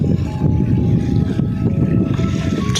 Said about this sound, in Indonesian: Anginnya juga kencang banget ini.